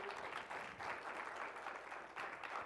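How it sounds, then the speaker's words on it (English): Conference audience at a creative experiential technology event applauds, a brief, soft, dense patter of many hands clapping from the room, fairly distant and quiet throughout. "Round of applause."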